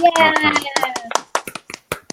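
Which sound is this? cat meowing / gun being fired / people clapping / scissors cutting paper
people clapping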